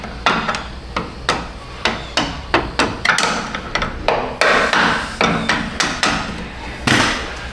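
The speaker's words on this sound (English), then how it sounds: "Maybe I can just tap it right where it's at." Steady hammer taps on a Chevy Tahoe suspension part while working around the upper control arm and spring, about two sharp metallic strikes per second, close and loud, with no talking.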